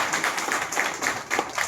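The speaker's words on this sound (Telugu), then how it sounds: "మీరందరూ కూడా గట్టిగా చప్పట్లు కొట్టండి గుడిపాటి గారికి" Audience applause at a Telugu literary gathering honouring Gudipati, a steady wash of many hands clapping with scattered sharper claps standing out, moderately loud and continuous throughout.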